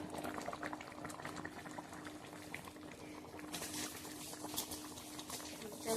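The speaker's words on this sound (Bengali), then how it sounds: "একটু সিদ্ধ করে নামিয়ে নেবো এখানে" Tilapia fish curry with mukhi kochu (taro) bubbling in a pot, a steady low burble of boiling liquid that grows brighter and busier toward the end.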